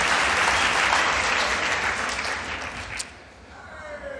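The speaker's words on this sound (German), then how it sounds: "Kann man da zwischendurch einfach mal so klatschen" Dense applause from a large audience in a hall at a conference closing ceremony, loud and sustained for about three seconds before thinning out, with a few scattered claps lingering at the end.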